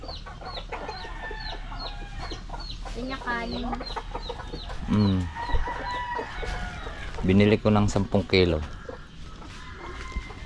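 Chickens cluck and squawk steadily close by around chicken feed while people talk over them against a constant outdoor background.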